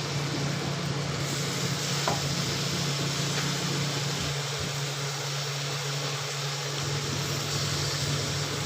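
Potatoes, one small-medium and one large, frying in a pan for a quick spicy Maharashtrian potato bhaji, giving a steady, moderate sizzle with occasional stirring scrapes, no voices.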